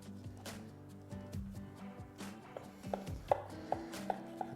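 A knife slices through a rack of smoked BBQ beef short ribs on a cutting board, with soft cuts followed by a run of crisp, evenly spaced taps toward the end over a low steady background hum.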